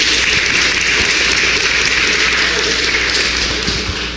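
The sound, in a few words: audience applause at a convention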